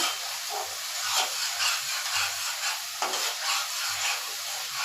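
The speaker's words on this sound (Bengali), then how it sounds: "এখন আমি খুব সুন্দর করে ভালো করে মশলাটা কষায় নেব।" Spice paste for a prawn and taro corm curry sizzles steadily in hot oil, with soft scraping stirs recurring throughout and no voices.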